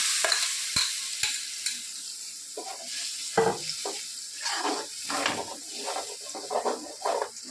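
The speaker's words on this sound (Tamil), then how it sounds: "இந்த மாதிரி வதக்கும் போது தக்காளி வெங்காயத்தை நல்லா போட்டுட்டோன்னே" Tomato and onion sauté in hot oil in a pan for a chicken kurma, a steady sizzle with occasional stirring scrapes and clinks of a utensil against the pan, no talking.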